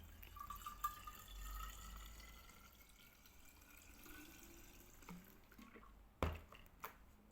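Cherry juice pouring into a jug, a faint, soft liquid stream trickling and splashing unevenly, with a few louder knocks and drips near the end and no talking.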